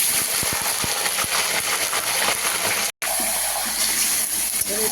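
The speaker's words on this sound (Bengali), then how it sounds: "চিকেন কষার জন্য মাংস মাখানো মাংসটা এবার দিয়ে দিচ্ছে তেলে" Marinated chicken dropped into hot oil for chicken kosha, a loud close rushing sizzle with a few sharp clatters at the start and a brief break midway, no talk.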